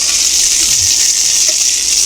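Pot stickers sizzle loudly in a pan as the steaming water cooks off, a dense continuous hiss and crackle close up, with no talk.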